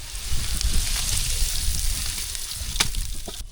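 Spices for a tempering crackle and sizzle loudly in hot oil for sambar rice, a dense continuous frying hiss with scattered pops and spatters close by; no talking.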